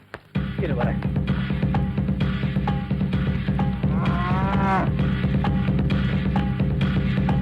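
A cow moos loudly and nearby, a long throaty call rising over a steady hum and background noise, with a second drawn-out moo following a few seconds later; no talk overlaps it.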